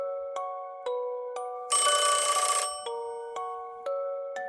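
A telephone rings in a repeating electronic tone, pulsing at a steady rhythm and briefly swelling into a louder, harsher burst midway, used as an effect in a spoken horror story.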